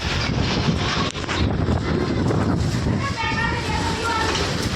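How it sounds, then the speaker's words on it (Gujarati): Strong storm wind during a cyclone with heavy rain in Rajkot, roaring steadily and loudly against the microphone in an outdoor street where roofing sheets are being blown loose; the gusty rumble fills the whole stretch. "ફૂલ પવન આવ્યો છે"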